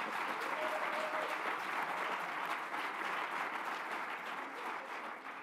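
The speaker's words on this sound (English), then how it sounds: "I was eager to applaud." Sustained applause from an audience, a dense steady patter of many hands clapping at once that holds strong for several seconds before easing slightly.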